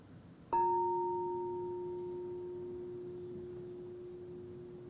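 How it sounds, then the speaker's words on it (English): A single bell strike rings out clearly during a Sunday church service, then its pure tone hums and slowly fades over several seconds in a quiet room. "And now here is the sound of the bell."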